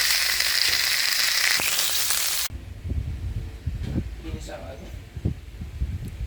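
Vegetables such as winged beans, hyacinth beans and mustard greens sautéing in a pan, a loud steady sizzle for the first few seconds, then quieter stirring clatter and crackle under a talking voice.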